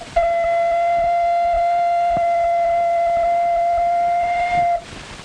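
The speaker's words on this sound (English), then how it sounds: "Make a sound on this ocarina, Jimmy." Ocarina blown loudly, a single steady, pure tone held for about five seconds and then cut off, with a faint hiss underneath.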